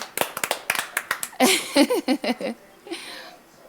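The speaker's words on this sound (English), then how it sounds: "let's give Esther a round of applause" Scattered applause for Esther at a women's success-story event: a handful of distinct claps in the opening seconds, then a fuller burst of clapping with a voice talking over it, fading toward the end.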